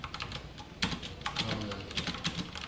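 Quick typing of Python f-string code on a computer keyboard, a close, fairly quiet run of irregular key clicks with a few firmer taps.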